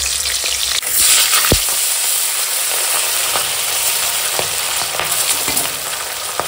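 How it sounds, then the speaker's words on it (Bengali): A rohu fish head fries in hot mustard oil in a kadai, giving a loud, continuous close sizzle with scattered pops and spatters throughout; no voices. "কড়াই সরষের তেল দিচ্ছি, তেল গরম হয়ে গেছে, এখন মুড়োটা আগে ভেজে নেবো"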